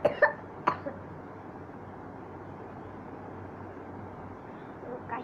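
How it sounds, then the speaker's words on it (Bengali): A person coughs a few times in quick succession at the start, then a single cough follows, close and fairly loud, before a quiet low hum carries on. "কাশি হয়েছে।"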